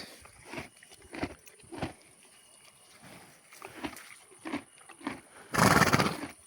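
A mare's hooves clop at an uneven pace, then she gives a loud, close snort or whinny near the end.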